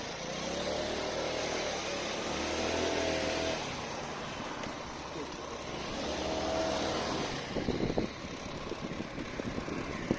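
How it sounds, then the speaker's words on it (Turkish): Car approaching from behind on a ramp while riding a two-up Mondial Revival 50 cc motorcycle uphill, a steady engine drone growing louder over continuous road and wind rumble, with no talking. "Arkadan araba geliyor."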